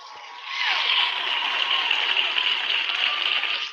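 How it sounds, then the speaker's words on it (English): A sustained burst of hand clapping, like a crowd applauding, swells in after a brief quiet start and holds steady and dense until the end, with no talking. "could you throw the hand claps for me?"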